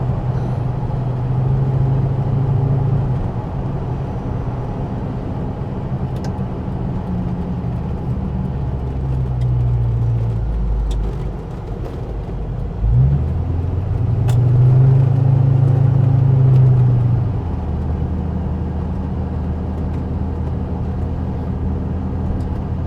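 A 1967 Ford Fairlane rolls along a rutted dirt road, its engine rumbling steadily from inside the cabin with low thumps and surges as the car bounces over the ruts, and nobody speaks.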